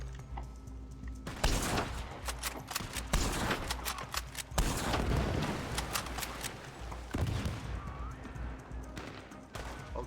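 Rifle shots and scattered gunfire ring out in the Western video game Red Dead Redemption, sharp cracks repeating irregularly over a steady busy background of game noise, fairly loud and close.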